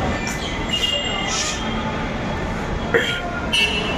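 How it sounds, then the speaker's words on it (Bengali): A metro train pulls into a station, a steady rolling rumble with brief high wheel squeals and clanks, with voices nearby in the background. "তো আমার ট্রেন চলে এসছে, এই যে ট্রেন এসে গেছে, ট্রেনে উঠবো।"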